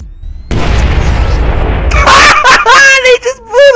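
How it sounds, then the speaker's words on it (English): A frag grenade explodes in Splinter Cell Blacklist: a loud, sudden blast with a deep sustained rumble, followed by frantic shouting and screaming voices as the roar fades. "He's throwing a frag grenade."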